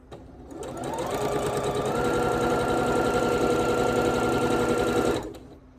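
A domestic sewing machine stitches fabric for a Yuletide quilt block, running at a steady fast whirring rhythm for about four seconds close to the mic, then stopping abruptly.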